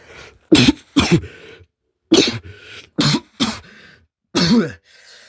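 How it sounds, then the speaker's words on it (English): Someone clears their throat repeatedly, about seven harsh, separate bursts of coughing and throat rasping with brief pauses between them, close and loud. "I gotta clear my throat real quick."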